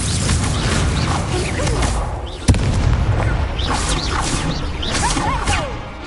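Magical Leviosa spell effect from the Hogwarts Legacy video game: a dense rumbling, whooshing wash with a sharp boom-like impact midway, sustained loud throughout with faint higher chirping sweeps.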